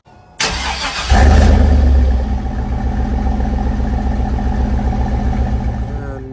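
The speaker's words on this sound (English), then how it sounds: "it has dual tip exhaust with the carbon exhaust, and I'll show you how it sounds right now" A 2000 Chevy Silverado single cab fitted with a dual tip carbon exhaust starts up close by with a sudden loud roar, then settles into a steady, deep, rumbling idle.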